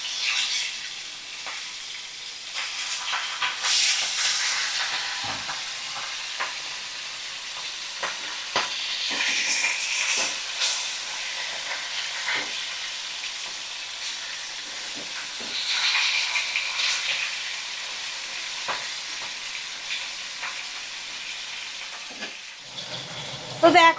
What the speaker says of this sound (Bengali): আমি উল্টে পাল্টে আর এক সাইডটা ভালো করে ভাজা করে নিচ্ছি।